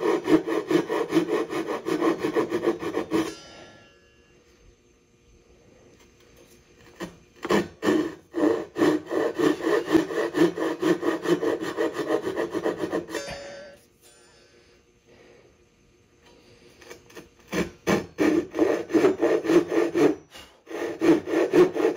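A thin-bladed Japanese hand saw cuts wooden dovetail pins in rapid rasping strokes, working in bursts of several seconds separated by quiet pauses, close and clear with no talk.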